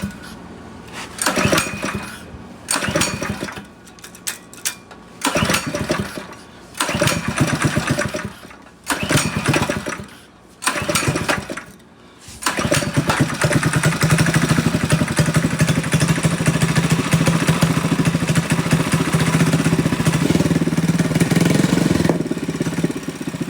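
Yerf Dog Spiderbox go-kart engine with loose makeshift exhaust, several loud sputtering start attempts in short bursts, then catching and running at a steady rough idle.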